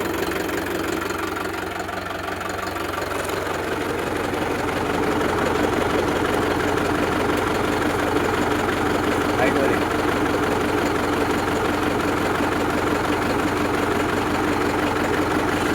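A Sawraj 841 tractor engine idles steadily with a continuous low, knocking diesel rumble that grows slightly louder after the first few seconds, close by and filling the whole stretch.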